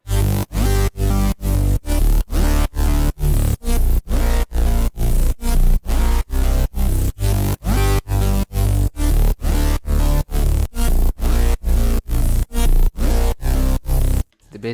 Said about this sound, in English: I added this bass line, and it sounds like this.